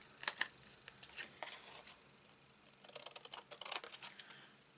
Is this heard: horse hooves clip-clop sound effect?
no